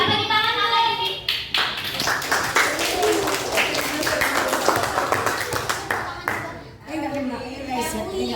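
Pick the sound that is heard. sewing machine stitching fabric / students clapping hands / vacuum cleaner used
students clapping hands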